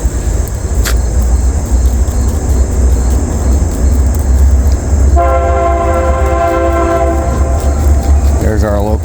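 Local train rumbling past nearby with a heavy steady roar, then sounding a loud sustained multi-tone horn midway through that holds for several seconds before other sounds rise at the very end.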